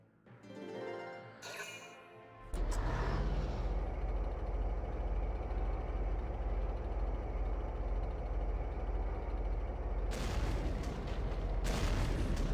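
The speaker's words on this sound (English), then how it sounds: "he's probably gonna shoot at me with this rear cannon" Tank cannon fire in the Valkyria Chronicles video game: after quieter opening sounds, a heavy blast sets off a loud, sustained rumbling roar that holds for several seconds, then eases, with further game noise near the end.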